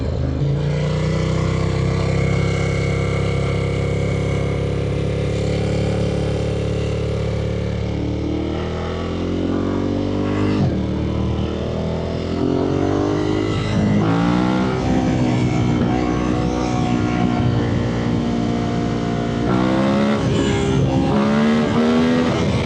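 A loud Ducati Monster 1200 S motorcycle engine roars continuously while being ridden, its pitch climbing through revs and dropping at quick-shifted gear changes across a sustained, close run.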